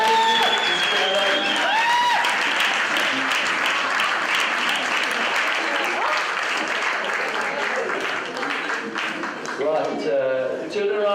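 Rapturous audience applause at a university green campus event, a loud dense sustained wave of clapping with cheering voices mixed in, easing slightly near the end as people settle and someone speaks.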